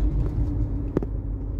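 A car rolling out of Mactan Cebu International Airport toward the Lapu-Lapu highway, with a steady low engine and road rumble throughout and one brief bump or thud partway through.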